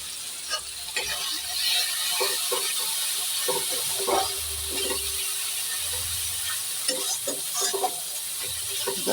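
Potatoes with cumin and Kashmiri chili sauté in hot oil in a kadai, a soft steady sizzle broken by frequent scraping and stirring clicks from a spatula, close and fairly quiet.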